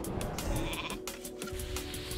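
A sheep bleat from a polymorph spell in an online fantasy game match, short and close, heard over busy game effects with no talking.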